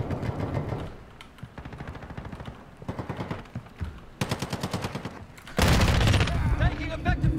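Rapid automatic gunfire in Call of Duty Modern Warfare II crackles in repeated loud bursts from several weapons, ending in a heavy explosive rumble, with voices shouting amid the shooting.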